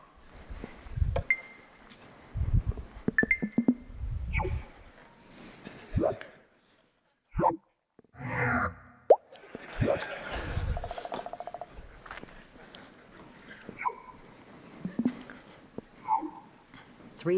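Cluttered navigation-app interface sound effects pile up in a busy string of short beeps, chirps, swooshes and blips, some overlapping, heard up close against a quiet background.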